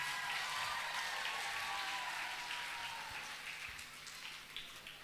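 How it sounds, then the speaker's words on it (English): Audience applause at a church dance competition, a dense, even roar of many clapping hands that holds steady and then slowly fades a little. "Please give yourselves a huge round of applause."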